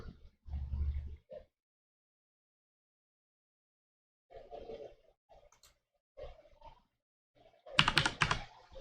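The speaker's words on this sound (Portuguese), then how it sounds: "Vou digitar a letra que não é um número e não está sendo tratado." Typing on a computer keyboard, a few short bursts of quiet key clicks separated by long silences, ending in a louder, denser cluster of keystrokes.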